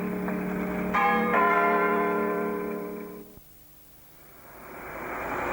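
Church bells rung for a wedding, a loud sustained peal of overlapping tones that swells early, rings on for a few seconds, then cuts off abruptly, leaving quieter ambient noise that slowly rises again.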